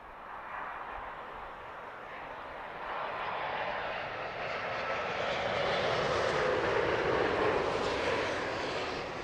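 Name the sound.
Oman Air Boeing 787 Dreamliner arriving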